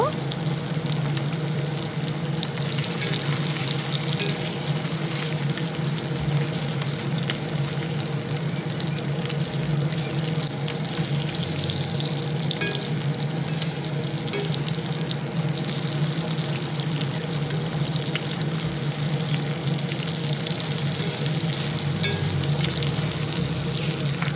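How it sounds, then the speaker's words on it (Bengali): Katla fish steaks frying in oil in a pan, a loud, dense, continuous sizzle close up with crackling throughout and no talk. "মাছের এক পাশ ভাজা হয়ে গেছে এবার উল্টে দিচ্ছি আর এক পাশ ভেজে নেওয়ার জন্য"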